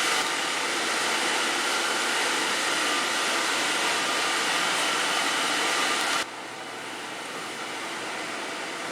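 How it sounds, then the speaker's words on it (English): A steam-powered steering unit aboard a Great Lakes ore ship held as a museum vessel gives off a steady, loud hiss and whir that stops abruptly near the end, dropping to a fainter hum. "It's the steam-powered steering unit."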